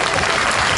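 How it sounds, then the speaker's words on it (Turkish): Loud, dense applause from a concert audience at a Ramadan concert at the Istinye shipyard, a brief, continuous burst of many hands clapping close by. "Evet, biz alkışlayalım."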